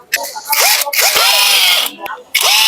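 A power driver spins in bursts, a loud whirring pulse that rises and stops several times as it runs the crankcase cover screws into a Kawasaki Fury 125 engine. The driving is close and short, with brief gaps between the runs.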